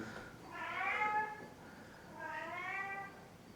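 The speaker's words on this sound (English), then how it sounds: "if you are hearing some noises, that's just my cats" Cats meow indoors in two drawn-out, wavering calls about a second apart, moderately close but fairly quiet over a faint room hiss, with no talking.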